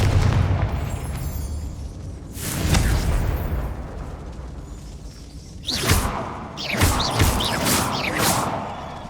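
Confringo spell explosions in the game Hogwarts Legacy: a deep boom with a whooshing blast, then a second burst followed by crackling pops and debris, loud and near, over a rumbling game background.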